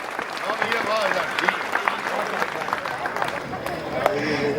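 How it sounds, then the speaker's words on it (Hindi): Audience members at a kavi sammelan poetry gathering in Udaipur clap with both hands raised, a steady crowd applause with scattered sharp claps and some voices underneath. "एक बार दोनों हाथ हवा में उठाकर तालियां बजा के मुझे आदेशित कर"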